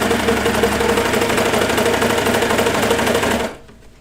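A sewing machine runs steadily at speed, stitching elastic onto the waistband of children's pajama bottoms with a loud, even mechanical whir and rapid needle patter, then stops abruptly near the end.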